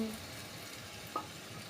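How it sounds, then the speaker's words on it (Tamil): Eggs for egg varuval sizzling in a hot pan, a soft continuous frying hiss with one small pop, faint and close, no talking. "இனி முட்டையை விட்டுறலாம்."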